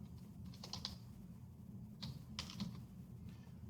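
Light keystrokes tap on a computer keyboard while a word is typed into a search box, with a few quick clicks in two short bursts over faint background hum.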